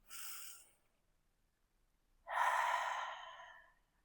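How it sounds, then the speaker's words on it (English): Deep breathing during a gentle yoga practice: a short soft inhale followed after a pause by a longer, louder breath, close and intimate. "take a nice big breath in"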